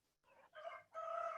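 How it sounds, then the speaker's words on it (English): A rooster crows on a farm with horses nearby, a faint, distant cock-a-doodle-doo in three drawn-out rising phrases, with no voices. "Sorry that I've got chickens and horses in the background, so you're going to hear some of that."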